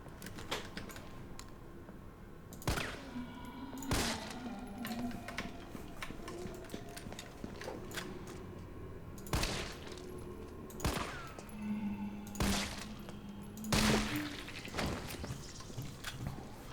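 Scattered gunshots in the Resident Evil 3 video game, several sharp bursts spaced a few seconds apart, some closer together, over a low game ambience with occasional tonal hums.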